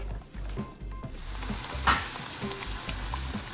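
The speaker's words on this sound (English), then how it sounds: "Tostones cooking." Plantain slices for tostones frying in oil, a loud continuous sizzle and crackle up close with a few stirring bumps and one sharp clink partway through.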